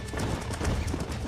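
Rapid hoof clip-clop of a galloping horse in the Western video game Red Dead Redemption, close and steady across a short burst, with a brief whinny mixed in.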